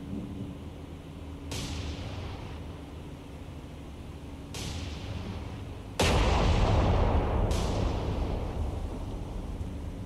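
Battleship New Jersey's turret guns fire in the naval video game War on the Sea, four heavy booming salvos spaced a few seconds apart over a constant low rumble, the last two loudest.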